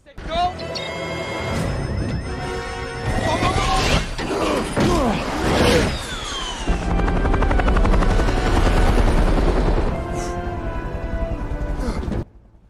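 A helicopter flies in an action film scene where it is targeted by a missile, its steady rotor and engine roar loud and continuous throughout, with mechanical clanks and crashes layered in and speech over parts of it.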